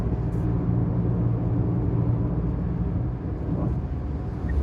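Tata Altroz Racer engine pulling steadily in sixth gear, a droning road and engine hum with low rumbling, fairly loud and even, easing slightly near the end with no talking over it.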